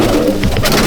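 Pigeons in a loft with young birds give a short, loud, breathy coo up close, with a rough rustling texture.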